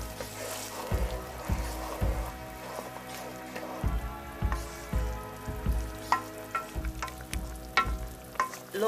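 Mapo tofu fries and bubbles in a pan as it is stirred, giving a soft sizzling bed under a series of close, rhythmic scraping and thumping strokes, with no talking.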